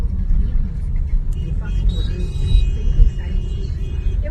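Traffic flows through the Jalandhar Cantt market street: cars rumble and pass close by over a constant low engine drone, with someone talking over it and occasional higher engine whines.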